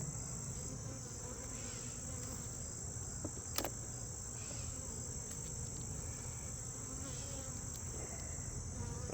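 Honeybees buzzing on a heavy hive frame in fall, a steady close hum, with a high-pitched insect drone layered throughout and no speech.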